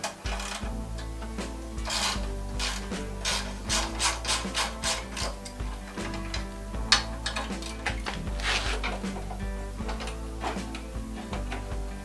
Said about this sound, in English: I need to undo these 2 bolts because this plastic actually slides under those washers